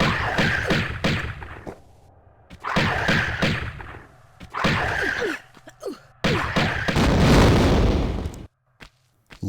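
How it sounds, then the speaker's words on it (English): Tomb Raider (1996) game audio with repeated bursts of booming, fiery explosion noise in clusters separated by short gaps, ending with the loudest, longest burst before cutting to near silence. "Love it when they explode into fire"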